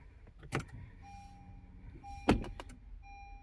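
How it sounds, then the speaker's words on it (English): An Acura's ignition is switched on, giving a sharp click near the start and a louder clunk followed by brief mechanical clicks partway through, over a low idle-like hum and a faint electronic tone. "Turn the ignition on."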